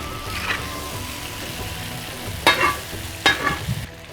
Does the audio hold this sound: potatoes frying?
yes